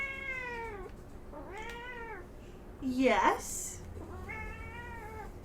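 Cat meowing repeatedly and close by, four drawn-out meows in a row, with people talking during the meows.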